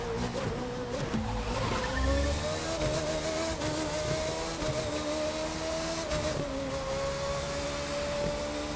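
A Red Bull RB13 Formula 1 car in The Crew 2 racing game gives a steady, high-pitched engine whine that climbs slowly in pitch. Tire noise sits underneath, and the drone runs without a break.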